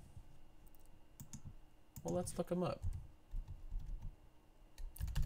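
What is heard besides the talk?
typing on a computer keyboard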